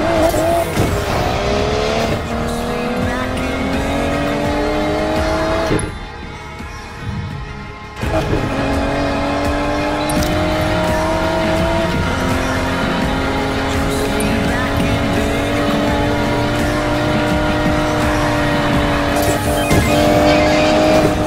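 A car in Need for Speed Payback at full throttle, its engine loud and close, roaring and climbing in pitch through repeated gear shifts, with a brief drop in the middle and a faint tire squeal.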